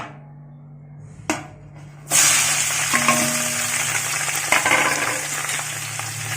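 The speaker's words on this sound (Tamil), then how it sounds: "இதை போட்டு கொஞ்சம் நல்லா வதக்கலாம்." Sliced onions hit hot oil for Hyderabadi layered chicken biryani, a brief quiet clatter followed by a sudden loud, close sizzle that then continues steadily with light stirring scrapes and no talk.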